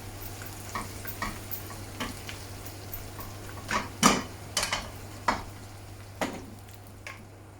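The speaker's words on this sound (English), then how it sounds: "they're softening nicely, just gently ticking over in that bit of oil and butter" Onions soften and fry gently in oil and butter for a venison casserole, giving a quiet, steady sizzle with scattered light taps and scrapes of a spoon against the pan.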